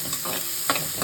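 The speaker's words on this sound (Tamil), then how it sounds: "நான் ஒரு பெரிய வெங்காயம் பொடியாக கட் பண்ணியிருக்கேன், அது போட்டுக்கிறேன்" Finely chopped onion frying in a pan for a banana flower lentil dumpling gravy, a close continuous sizzle broken by a few quick stirring scrapes.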